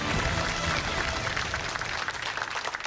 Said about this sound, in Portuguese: uma salva de palmas também para este conceituado jornalista português